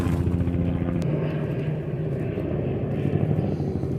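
A steady helicopter engine drone rumbles throughout, loud and constant, with no voices.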